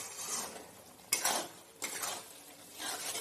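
Spices being stirred and fried in a pan for mutton-fat ghugni, a soft continuous sizzle broken by a few scraping strokes of a spoon against the pan.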